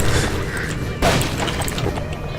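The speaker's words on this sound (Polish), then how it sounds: "Wszystko tu wybucha." Explosions in the Half-Life 2 video game, a loud broadband boom bursting out about a second in over a dense rumbling backdrop of battle noise.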